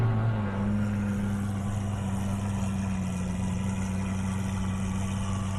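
Mustang drag cars run at an airstrip in Marion, Indiana, their engines making a steady, loud low rumble with sustained droning tones through the whole stretch and no talk.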